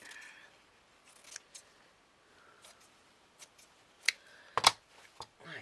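Scissors cutting a piece of pink paper for a shabby chic tag holder craft, with a few quiet crisp snips scattered through a hushed room and a louder cluster of cuts near the end.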